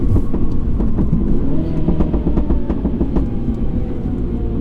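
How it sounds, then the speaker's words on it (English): A Mini John Cooper Works with a decatted downpipe crackles with a rapid, irregular string of loud exhaust pops over a steady engine drone, heard close with no voices. "This thing must have a decatted downpipe because those are a lot of pops."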